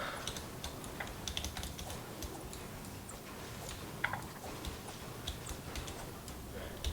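Computer keyboard keys click in quick irregular bursts during a Fortnite match, close and fairly quiet over faint background sound.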